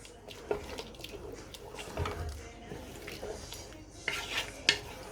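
Utensil scraping and clinking against a pot as egusi soup with ground seeds is stirred after water is added, several soft irregular scrapes and taps up close in a quiet kitchen.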